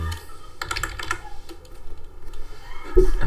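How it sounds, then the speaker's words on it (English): Computer keyboard typing in short bursts of quick key clicks, close and fairly crisp, with brief pauses between and a louder thump near the end. "I'm going to just type look for on construction"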